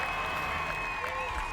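A large arena crowd at the American Ninja Warrior National Finals cheers and applauds a competitor, making a steady, dense roar of clapping and voices with no break.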